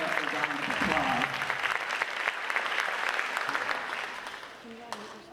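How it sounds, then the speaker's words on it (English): A crowd at an eighth grade bridging ceremony applauds, a dense, sustained wash of clapping that holds steady and then fades toward the end, with voices faintly audible under it. "He deserves a round of applause."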